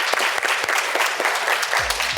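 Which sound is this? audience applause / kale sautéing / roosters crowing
audience applause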